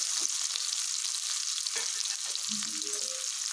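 Small onions with cumin sauté in a pan, giving a steady, close sizzle and frying hiss with occasional stirring scrapes throughout.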